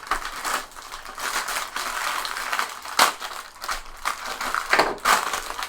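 Crinkly plastic and cardboard packaging for a Snaptain SP660 drone being cut and pulled loose, a steady run of close crackling and crumpling with a few sharper snaps, no talking.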